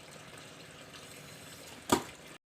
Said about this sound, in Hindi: फिर इसके अंदर साफ पानी भरा जाता है।